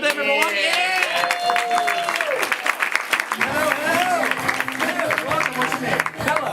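An audience at a live stage show applauds and cheers as a volunteer comes up, with loud whoops and excited voices over continuous clapping throughout.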